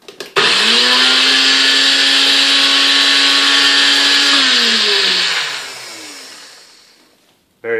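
NutriBullet blender with its milling blade fitted, roaring on at once as a loud, high-pitched whine that holds steady for several seconds, then drops in pitch and winds down to quiet before a brief clatter at the end.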